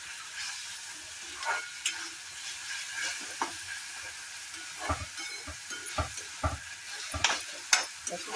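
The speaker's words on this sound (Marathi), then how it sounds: "आपलं आलं लसूण पेस्ट कांदा वगैरे छानपैकी परतून झालेलं आहे" Ginger garlic paste and chopped onion fry in a pan, a steady close sizzle broken by repeated clinks and scrapes of stirring.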